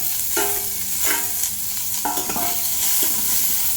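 Small shallots fry in hot oil with a dal as they are stirred, a continuous bright sizzle broken by repeated scraping strokes of the spoon against the pan, close and clear.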